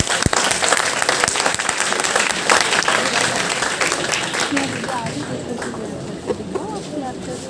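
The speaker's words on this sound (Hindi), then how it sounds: "एक बार जोरदार तालियां हो जाए स्नेहा रॉय।" Loud applause from an open mic audience at a university event, dense clapping close up at first and then thinning out, with a voice speaking over the later part.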